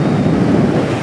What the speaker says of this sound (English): There's a nice cool breeze.